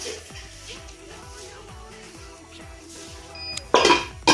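A lid set down on a cooking pot of banana-flower curry gives a sharp metallic clatter near the end, after a low steady background of cooking hum and faint pot clinks.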